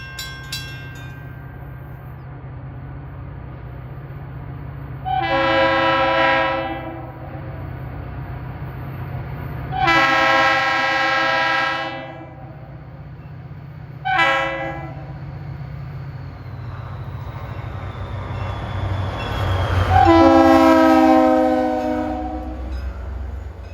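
An NJ Transit train led by heritage-painted CNJ 4109 passes, sounding its RS3L horn in four loud chords with pauses between, over steady rumbling and clattering wheels.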